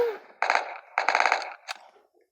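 Gunfire in a Roblox game sounds in two rapid automatic bursts followed by a single short shot, fairly quiet and close, with no talking over it.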